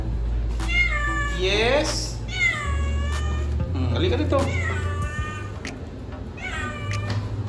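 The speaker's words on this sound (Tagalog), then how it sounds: "Ay, ganda ng pusa, oh." A cat meows over and over at close range, giving several drawn-out, rising and falling cries, while a person speaks to it between the meows over a low background hum.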